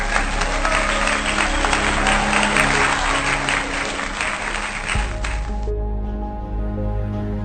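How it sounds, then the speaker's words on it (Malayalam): A canned burst of crowd applause, dense and loud, rolls on steadily for about five seconds and then cuts off sharply, leaving a low hum. "എല്ലാവരും ഒന്ന് കൈയടിച്ചു കൊടുത്തോ"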